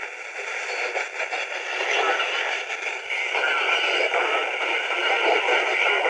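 Steady, hissy shortwave radio noise from an SSB signal received on an AM radio without a BFO, with a garbled, unintelligible signal warbling underneath; no clear tones or speech come through.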